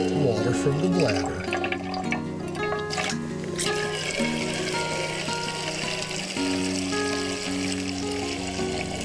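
Water splashes and trickles into a pot among clattering camp cooking sounds and a loud, varied background while backpacking.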